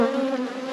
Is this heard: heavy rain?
no